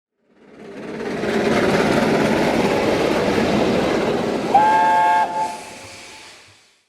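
An 009 gauge model railway train runs with a steady rumbling clatter that builds, holds and fades, and a short tonal whistle sounds near the end.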